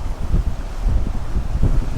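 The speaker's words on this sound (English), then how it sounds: "Wind's got up to about 50 mile an hour." Strong coastal wind of about 50 mph on the East Coast by the River Humber buffets the microphone in loud, gusting low roars, rising and falling unevenly throughout with no voices.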